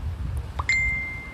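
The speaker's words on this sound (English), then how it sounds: "My phone is interrupting." A phone notification ding interrupts, a bright single tone that rings out clearly and fades slowly over a low background rumble.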